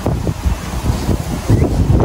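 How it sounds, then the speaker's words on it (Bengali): Strong, cold wind in a UK garden buffets the microphone in continuous rough, low gusts, loud and steady throughout. "দেখছো কি বাতাস?"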